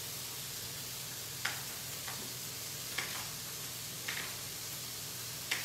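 Onion frying in a pan for chicken and bacon spaghetti carbonara, a steady soft sizzle with a few sharp clicks of utensil against the pan at intervals.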